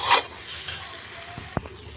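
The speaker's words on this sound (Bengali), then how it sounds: "একটু নেড়ে চেড়ে ভালো করে কষিয়ে নেব" Potatoes and soybean chunks fry in a pan with a soft, steady sizzle while being stirred, and a single sharp utensil knock sounds near the end.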